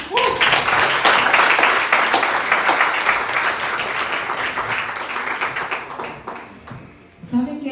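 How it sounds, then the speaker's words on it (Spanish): A church congregation claps in a lively burst of applause that gradually thins out toward the end, with a voice briefly heard as it fades. "un aplauso al Señor"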